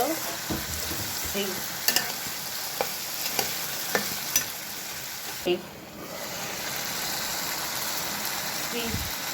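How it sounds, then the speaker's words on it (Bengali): Chicken legs sizzle in a hot pan with garlic, chilli and spice paste, a steady frying hiss broken by sharp clicks and scrapes of a spoon stirring the pieces. "এখন আমি মুরগির পাগুলা দিয়ে দিব।"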